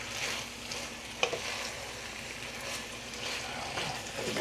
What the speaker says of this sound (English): We gonna cook these down in the sauce that was made from the pepper steak.